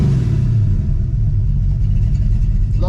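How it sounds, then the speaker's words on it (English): A Ford Mustang Fox Body running on fresh 93-octane fuel idles close by, its low rumble steady and even, with no voices over it. "Yeah, see, it's settling down and idling better."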